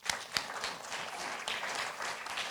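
Faint audience applause for a conference panel at a Johor business forum, a short steady patter of many hands with a couple of sharper claps near the start.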